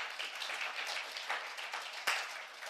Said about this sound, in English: Let's give Confidence a hand of applause